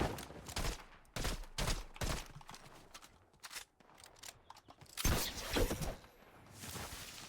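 Bursts of drum gun fire in Fortnite Reload, several rapid rattling volleys separated by short gaps, the loudest near the end, with no talk over them.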